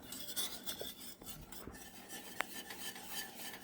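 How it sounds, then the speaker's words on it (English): A whisk scrapes and stirs thickening pudding in a pot: soft, continuous metallic rasping and swirling, close and quiet, with a small clink partway through and no talking. "I just use the whisk so I don't dirty up another fork or spoon or whatever."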